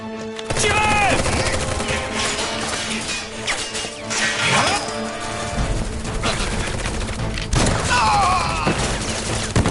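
Rapid gunfire bursts from the Final Fantasy VII combat sequence, dense and loud, with crashes and booms mixed in and game voices shouting over the shooting throughout.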